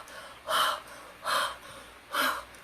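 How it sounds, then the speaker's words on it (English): Three slow, evenly spaced breathy huffs blown close onto an inked rubber stamp, each a soft airy burst separated by quiet pauses. "I'm just going to huff on it because it is a little bit, it might dry a bit."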